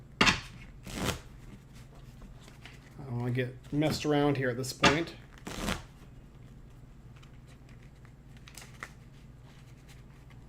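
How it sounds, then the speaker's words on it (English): A deck of board game cards being shuffled in several quick riffling bursts, close up, with people talking over and between them. "I'm gonna give it a good shuffle."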